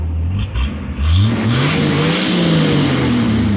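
A car engine with no muffler rumbling and revving close by, a loud, rough, throaty growl that rises in pitch as the throttle opens, with no talking over it.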